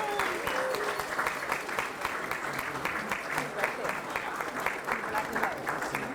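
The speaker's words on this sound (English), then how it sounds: "Give them all a round of applause." An audience at a museum grand opening applauds steadily for several seconds, a dense, fairly even wash of clapping heard from within the crowd at moderate volume.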